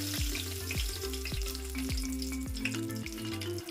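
A few bay leaves hit hot refined oil in a pan and sizzle steadily, with a run of rhythmic stirring taps and scrapes repeating through the close, continuous frying.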